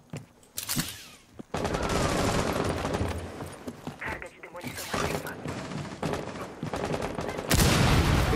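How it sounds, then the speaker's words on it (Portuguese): Gunfire in the game Rainbow Six Siege comes in loud bursts of rapid automatic shots and scattered single shots, with gaps between them and a player's voice talking. "Ah, tô levando tiro."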